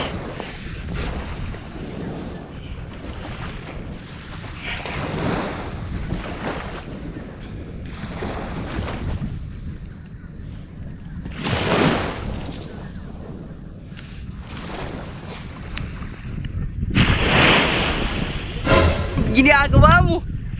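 Sea waves wash onto a beach in gusts of wind at a campsite, swelling and fading in surges with buffeting wind noise against the microphone.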